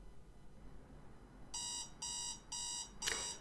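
A repaired alarm clock rings after a quiet start, sounding four loud, evenly spaced bursts of high electronic beeping.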